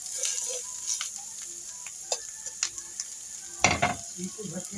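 Chutney ingredients frying in a pan, a soft steady sizzle with scattered light clicks and one brief louder stir or scrape near the end, no speech.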